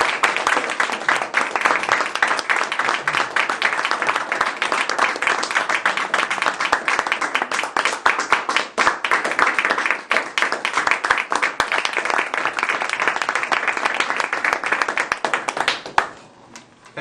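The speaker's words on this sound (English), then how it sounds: "Please join me in a round of applause" Sustained applause from a crowd, dense clapping filling the room for a long stretch before tapering off at the end.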